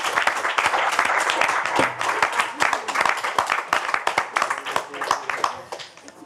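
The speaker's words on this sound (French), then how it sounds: "on peut les applaudir" An audience applauds the finalists of a French-language speaking contest final, dense clapping building and then thinning over several seconds, with cheering or voices mixed in.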